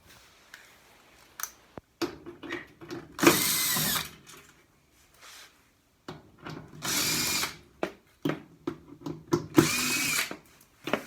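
A power drill removes bolts from a Samsung dryer in several short whirring bursts. Clicks and handling noises fill the gaps, and the bursts are loud and close.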